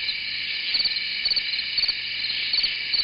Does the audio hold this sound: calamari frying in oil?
no